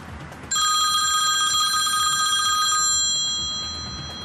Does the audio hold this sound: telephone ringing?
yes